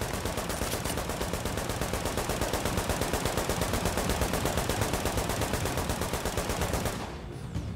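An automated turret in The Division fires a long, rapid, evenly spaced stream of shots, loud and close, then abruptly stops.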